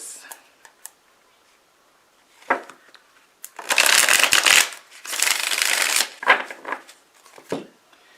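A Tarot of the Abyss deck is shuffled and drawn from, with short papery riffles and a longer run of dense shuffling bursts in the middle, close up and without speech.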